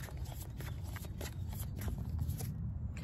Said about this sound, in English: I'm going to go ahead and shuffle